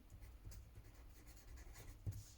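Pen writing on paper while working a math addition word problem: faint, soft scratching strokes over a quiet room, with one slightly firmer mark near the end.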